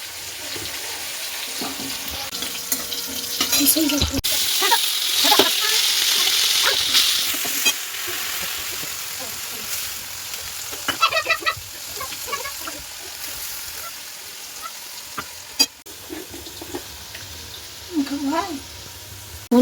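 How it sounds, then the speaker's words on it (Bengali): Green chillies and five-spice seeds fry in hot oil for a cauliflower and potato curry, giving a steady sizzle with clinks and stirring noises, louder in the middle stretch, and a few brief voices in the background. "ফুলকপি আলুর মশলা কষা হচ্ছে"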